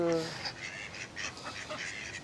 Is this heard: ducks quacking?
yes